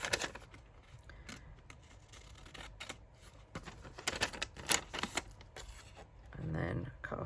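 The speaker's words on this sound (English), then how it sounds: "cut along this fold" Scissors cutting paper along a fold during a glassine bag and envelope craft, giving a series of close crisp snips and rustles with faint talk between them.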